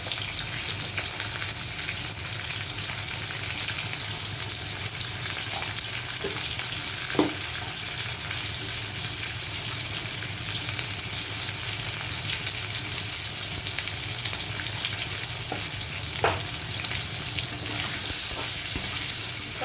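Potato pieces fry in hot oil in a pan for a Bengali fish curry, a steady, even sizzle running throughout with a few faint clinks of a utensil.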